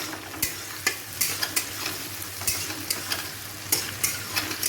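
Ginger, garlic and chili paste sautéing for ghugni gives a quiet continuous sizzle broken by sharp scraping clicks of a spatula stirring against the pan, about a dozen strokes at an uneven rhythm.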